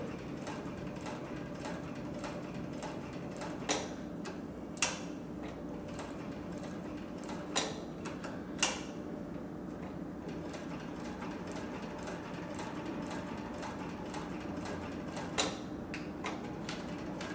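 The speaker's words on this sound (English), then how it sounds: "I'm just going to back up a few stitches here so you can see how it does in reverse on the four layers" A Cowboy industrial sewing machine runs quietly in reverse through four layers of material, a soft steady mechanical whir with a few sharp ticks and clicks scattered through, heard alone at close range.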